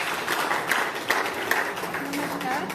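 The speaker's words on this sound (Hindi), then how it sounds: "जोरदार तालियां बजा के" Applause from an audience at a menstrual hygiene awareness gathering at a headquarters in Lucknow, a steady wash of clapping with a few sharper individual claps standing out, moderately loud with faint voices underneath.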